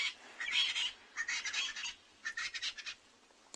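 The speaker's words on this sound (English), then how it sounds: "We can hear the crested francolin calling. We can hear Natal spurfowls in the back." A crested francolin calls in harsh, rapid squawking bursts on a South African morning safari at a waterhole, with more distant Natal spurfowls and doves in the background, loud and clear with short gaps between phrases.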